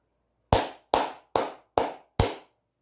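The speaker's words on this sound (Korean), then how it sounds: "크게 기립박수 한번 치고 가도록 하겠습니다" Five sharp, loud hand claps at an even, deliberate pace, each one isolated with a short decay and silence between, standing in for a standing ovation.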